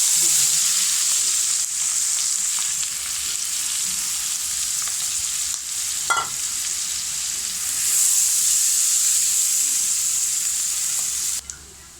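Two chilies fry in hot oil with a loud, continuous sizzle close by and a brief clink partway through before the sizzle drops off at the end.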